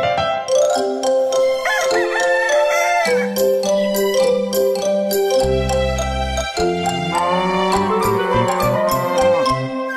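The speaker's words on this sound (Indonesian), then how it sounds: "Dengar suara ayam berkokok di sana, seperti alarm." A cartoon rooster crows in a children's animated farm song, its stylised cock-a-doodle-doo calls set among bright, tuneful music and jingly effects throughout.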